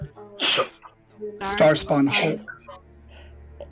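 A sneeze bursts out amid a group of people chatting during a game session, followed by further talk and laughter-like voices; the sneeze is brief and close.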